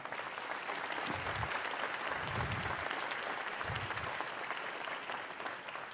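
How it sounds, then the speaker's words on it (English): A leadership summit audience claps in a sustained, fairly distant round of applause, a dense steady patter holding level for several seconds before easing slightly at the end. "Give yourselves a round of applause."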